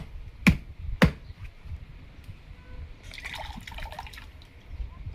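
Two sharp clicks, then coconut water from a freshly opened coconut trickles out in a brief, faint dribble, close by with no speech.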